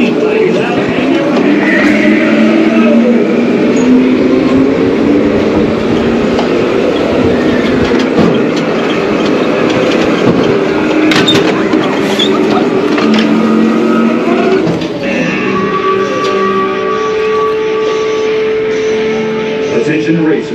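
Go-kart engines race around an amusement park track, a steady loud mechanical drone with rattling and shifting pitch, with people talking over the noise throughout.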